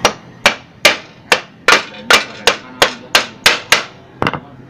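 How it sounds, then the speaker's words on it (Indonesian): A wooden hammer taps wheel weights onto a racing rim during a tubeless tyre fitting, giving about eleven sharp, evenly spaced knocks, each loud and close with a short ringing decay. "palu kayu kalau ada"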